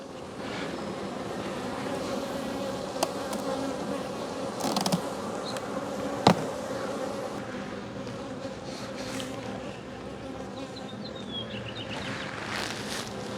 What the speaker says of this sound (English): Not enough bees yet.